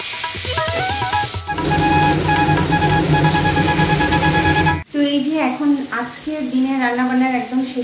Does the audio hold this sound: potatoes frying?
yes